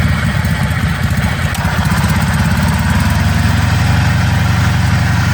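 Small engine on a Venturo ET10KX mini crane running steadily, a loud, continuous close-up putter with a rough low chug and no talk.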